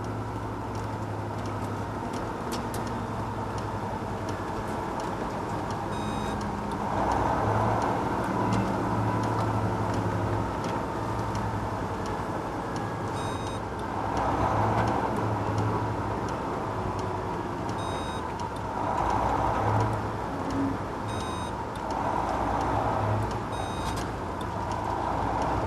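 A heavy truck with an Eaton Fuller transmission downshifts toward its starting gear, the engine droning steadily with repeated surges in revs as each gear is taken, alone with no talk.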